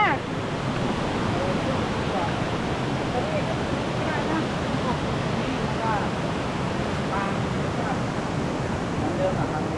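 A waterfall roars nearby as broad, steady rushing water, continuous and fairly loud with faint voices beneath.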